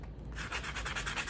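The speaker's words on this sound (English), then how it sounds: "I'm just gonna sand that down to make it smooth" A sanding sponge rubs a frame smooth in quick, close, faint back-and-forth strokes, a soft repeated scratchy rasp.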